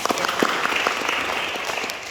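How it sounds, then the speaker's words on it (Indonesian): A seminar audience claps steadily for a couple of seconds, a dense, even patter of many hands filling the room. "Tepuk tangan buat kalian."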